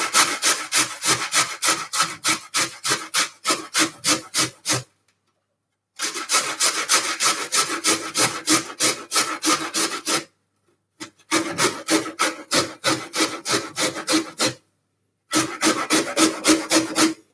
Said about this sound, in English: I'm just going to grate my ginger